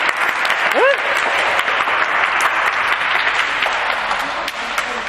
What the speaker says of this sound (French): Applaudissez bien!